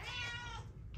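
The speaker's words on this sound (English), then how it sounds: "Video will be a nightmare for anyone who doesn't like cat noises." Two cats meowing loudly and continuously in a home beside a newly built cat tree, their overlapping drawn-out cries filling the moment with no talking.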